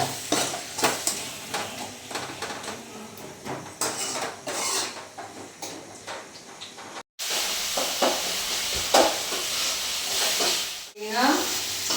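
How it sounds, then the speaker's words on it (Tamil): Tomatoes with a green chilli sautéing in a pan, with repeated spoon scrapes and clanks over a steady sizzle; a brief cut is followed by louder frying and more stirring. "தக்காளி பழம் குழஞ்சிருச்சு, நம்ம நல்லா வதக்கிட்டோம்"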